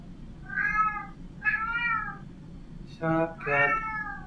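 A nearby cat gives four clear meows, two drawn-out calls and then two shorter, rougher ones, over a soft background hum.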